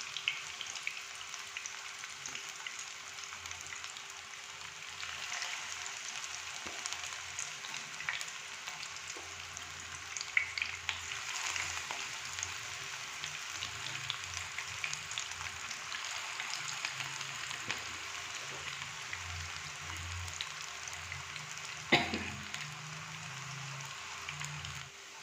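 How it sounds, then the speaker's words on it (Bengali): Spinach fritters (palong bora) made with garden spinach, flattened and frying in hot oil, give a steady, dense sizzle and crackle with no pause from start to finish, close by, with no talking. "তেলটা গরম হয়ে গেছে, বড়াটাকে দেবো। এইভাবে চ্যাপটা চ্যাপটা করে ভাজতে হবে।"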